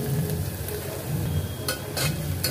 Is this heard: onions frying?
yes